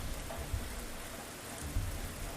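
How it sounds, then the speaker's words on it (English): Steady rain from a radiation storm in a Fallout tabletop session, a constant close wash of hiss with faint low rumbles of thunder. "So not only do you hear the rain and the thunder,"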